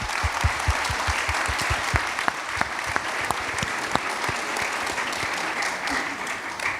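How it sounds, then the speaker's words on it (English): A congregation at a 2023 Children's March event applauds in a steady, dense round of clapping, with a few sharper claps standing out, heard alone. "I want you to just thank him again with a great big round of applause and a thank you."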